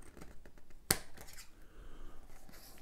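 A single crisp snip of scissors trimming the end of a card, sharp and close against a quiet background with faint paper rustles after.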